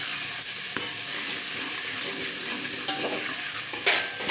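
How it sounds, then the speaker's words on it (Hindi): Garlic ginger paste fries with half-browned onions in a pan for a dal mash kofta gravy, making a steady, close sizzle with occasional stirring scrapes, no talk. "अब इसमें ये लहसुन अदरक का पेस्ट डाल रहे हैं। अब इसे भी ब्राउन करेंगे।"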